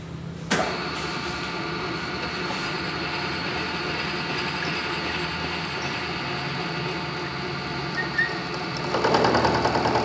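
A milling machine switches on with a sharp click and settles into a steady, loud mechanical hum with a rhythmic whirring drone, growing slightly louder and rougher near the end.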